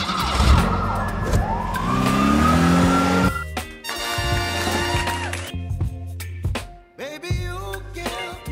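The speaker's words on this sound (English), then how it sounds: "Wow! Fire truck." Fire truck siren wailing up and down, loud and close, with an engine revving beneath it and later shifting to rapid warbling tones.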